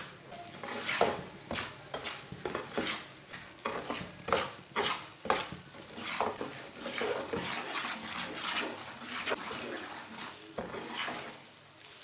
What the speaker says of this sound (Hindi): इसे हल्की आंच पर भूनना, ऐसे ही चम्मच चलाते हुए इसे हल्का सा ब्राउन करना।